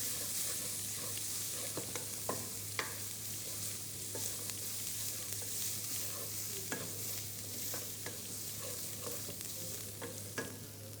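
Tomato paste, spices and curry leaves fry and sizzle steadily in a pan for paneer potato masala, with a spatula scraping and clicking against the pan every second or so.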